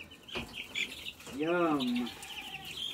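Chickens cluck in the farming video game Farming Simulator, a short rising and falling squawk with soft chirps around it, while someone says a word.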